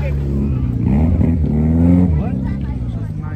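Cars driving past outdoors during a street takeover, engines rumbling and revving close by, loud and continuous under overlapping voices and shouts.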